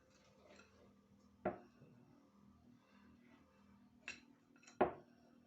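Spoon knocking against a mixing bowl while cheddar biscuit dough is stirred with flour, a few sharp clinks spaced apart among quiet soft scraping.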